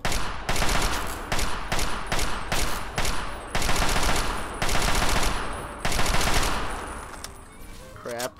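Automatic gunfire in a modded Fallout 3, with loud, close bursts of rapid shots separated by short pauses, repeated throughout the stretch.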